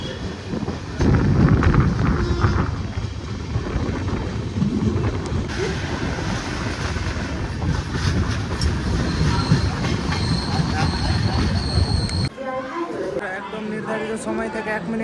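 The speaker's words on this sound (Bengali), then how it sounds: "আমাদের ট্রেন এই মুহূর্তে ছেড়ে বেড়াচ্ছে" Passenger train 13063 pulls out and runs along the tracks, a loud continuous rumble with clattering wheels and squeals from the rails. Voices are faintly audible near the end.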